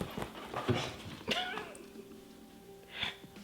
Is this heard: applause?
no